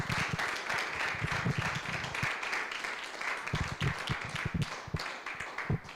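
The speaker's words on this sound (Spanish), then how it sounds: "Damos otro aplauso a los ponentes." A lecture audience applauds the speakers after a talk on astronomy, sustained clapping from many hands with sharp individual claps close by, steady throughout with slight swells.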